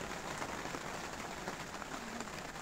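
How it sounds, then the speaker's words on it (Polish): Rain falls steadily at night beside a fishing spot with a heavy storm building, a dense, even hiss of drops that stays constant and fairly close for the whole stretch, with no talk. "Więc deszcz pada, jak widzicie sami, słyszycie."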